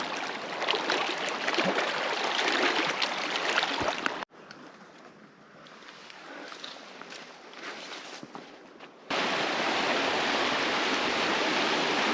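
Steady broadband rush of a flowing mountain stream in Glacier, close and continuous, dipping quieter for a few seconds in the middle before returning at full strength.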